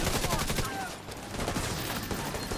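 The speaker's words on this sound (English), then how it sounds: "Oh, getting shot in the back." Gunfire fills a firefight in the video game The Division 2: dense, rapid overlapping shots in continuous loud bursts, with no clear pauses.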